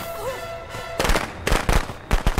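Firecrackers go off in Friday the 13th: The Game, a rapid string of sharp cracking pops that starts abruptly after a quiet stretch and keeps crackling in bursts close by.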